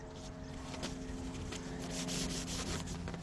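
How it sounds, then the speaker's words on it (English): A Road Warrior fairing on a 2018 Harley-Davidson Sport Glide FLSB is scuffed by hand-sanding before paint, giving close, continuous rhythmic rubbing strokes over a low background hum. "So basically all this is doing is scuffing it up to get ready for the paint."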